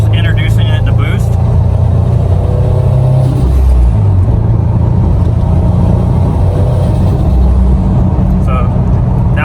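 A Subaru STI engine from an 800 whp build, run through break-in and eased into boost, gives a loud, continuous low rumble with shifting revs while a person talks over it.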